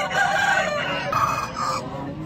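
A country rooster crows loudly and close at a Sunday chicken market in Vijayawada, a single drawn-out cock-a-doodle-doo with clucking fowl around it and no talk.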